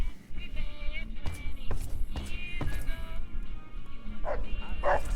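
King the dog barks in short yips and whimpers in Fallout New Vegas, heard amid background game sounds and a voice talking, the barks scattered across the clip.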